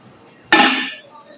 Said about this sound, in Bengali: কেকের ঢাকনাটা তুলে দেখে নেব